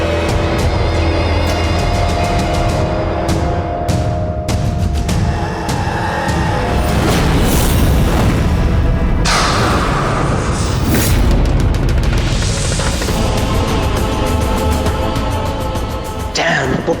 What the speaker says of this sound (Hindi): तभी ये धमाका हुआ